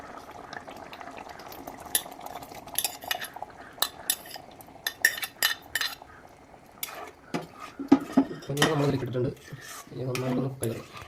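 A utensil scrapes and clinks against a pan in irregular stirring strokes while mixing paneer butter masala, with a thick, squelchy mixing sound building toward the end.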